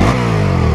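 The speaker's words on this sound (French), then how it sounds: "Et le pot" A Can-Am Spyder three-wheeler with a 990 Rotax engine revs hard, its exhaust giving a loud, steady, close-up roar for a brief moment with no talk.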